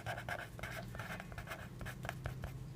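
A pen scratches across paper as amounts are written out for a maths exercise, a close, continuous scribbling with brief accented strokes and no voices.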